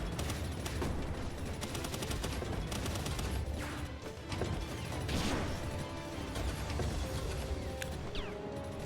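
Sustained minigun fire on an oil rig in Palworld, a dense, continuous mechanical rattle of rapid shots that stays loud and unbroken from start to finish.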